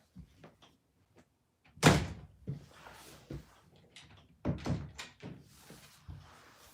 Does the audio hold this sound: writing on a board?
no